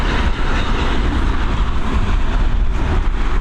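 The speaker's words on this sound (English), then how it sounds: "And there is that beautiful Emirates 777." An Emirates Boeing 777 airliner moving at Dublin Airport gives a loud, steady, broadband jet engine roar with no distinct breaks, heard from a distance outdoors.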